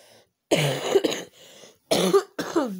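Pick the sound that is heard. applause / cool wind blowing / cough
cough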